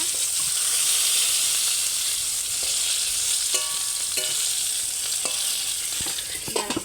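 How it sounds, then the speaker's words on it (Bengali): Slices of eggplant sizzling in hot oil in a home kitchen, a continuous close hiss with several sharp clinks and scrapes of stirring toward the end. "এই যে এখন বেগুন ভাজা"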